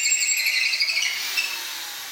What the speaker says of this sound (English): I also need to take and drill out the hole where what is called the queen bolt will go